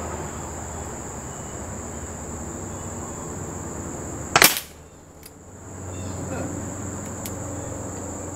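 A Crosman Vigilante .177 CO2 pellet pistol fires once at a target outdoors, giving a single sharp, close crack. Steady cricket chirping continues before and after the shot.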